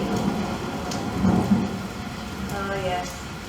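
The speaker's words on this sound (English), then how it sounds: "Where there's lightning, there's thunder." Thunder rumbling low and steadily under a wash of rain, loud and close, with a brief voice-like sound over the storm.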